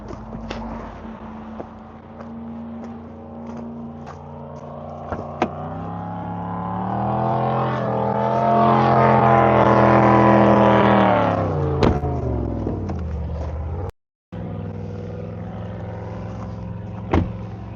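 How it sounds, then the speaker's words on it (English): Motorboats on the Missouri River pass by. Their engine drone swells to a loud peak in the middle, then fades again, with sharp knocks and a brief dropout near the end. "Here we go with more boat traffic."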